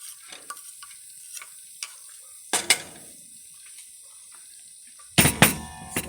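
Onion sizzling in butter in a pan, a soft steady frying hiss with occasional louder clatters of a wooden spoon stirring, no talking.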